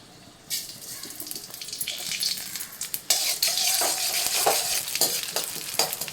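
Cumin seeds hit hot oil in a pan with a sudden loud sizzle that builds into steady crackling frying, with stirring scrapes and a few sharper pops close by.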